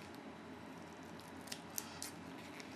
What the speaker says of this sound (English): cut around the entire battery interrupter with a scissors